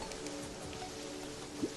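Rain falls in the video game Terraria as a faint, steady hiss of drops that holds evenly throughout, with no talking.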